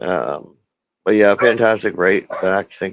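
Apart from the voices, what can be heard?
None of the usual background noises is heard.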